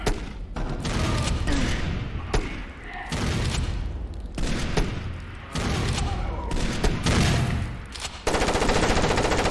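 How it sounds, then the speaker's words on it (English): Gunfire from the video game Far Cry Instincts Predator rattles out in rapid bursts of shots and booming impacts, loud and dense, separated by brief gaps. "Ended up just shooting him."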